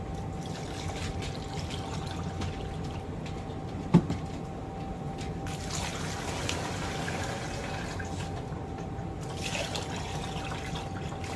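Water pouring over rocks held in a strainer and running down into a barrel, a soft continuous trickle and splash with a single brief knock partway through, close and steady, no talk.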